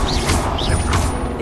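An Incendio fire spell cast in Hogwarts Legacy, heard as a quick, loud crash of clashing magic with two sharp whooshing bursts in rapid succession.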